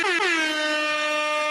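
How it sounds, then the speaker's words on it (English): A single loud, sustained air horn blast, bright and harmonically rich, with a quick pitch dip at the start before holding steady for more than a second, close and alone. "The air horn."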